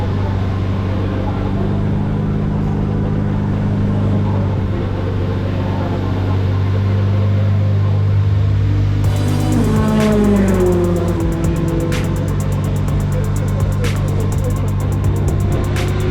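A Ford Focus race car engine runs steadily in a garage, a low even drone that swells into a rising rev partway through before settling back to a busy idle.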